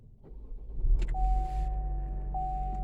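A 2021 Chevy Equinox starts by push button, a low engine rumble swelling up and settling into a steady idle inside the cabin, with a thin electronic tone running alongside and no talk.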